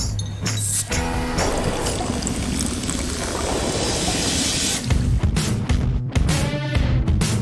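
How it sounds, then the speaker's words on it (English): Coke Zero is poured from a Coca-Cola sound ad: a loud, continuous fizzing pour and hiss lasting several seconds, with short bursts of bubbling and clinking at the start and end. "Even when there was no screen, we poured Coke Zero using just sound."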